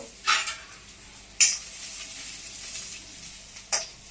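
Mushrooms frying in oil in a kadai, a soft steady sizzle broken by three sharp spoon-against-pan clinks as they are stirred.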